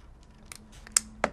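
Scissors make a few sharp snips while cutting out textured paper balloons, close by and alone with no talk.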